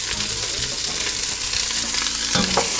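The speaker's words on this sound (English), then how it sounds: "because I want to sear the vegetables." Vegetables sear in a hot pan as the base for a lobster stock, giving a steady, close sizzle and frying crackle with a few stirring scrapes, and no talking.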